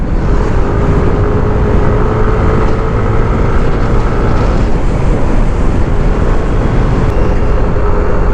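A motorcycle engine runs continuously while riding on a road in San Esteban, Ilocos Sur, a loud steady drone heavily mixed with rushing wind noise, no talking.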